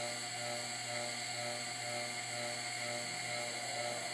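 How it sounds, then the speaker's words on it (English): The rotor of a rotary plasma discharge device gives off a steady electrical hum with a layered, whining tone. The sound is constant and moderately loud throughout, with no change in pitch. "I'm going to initiate the rotor"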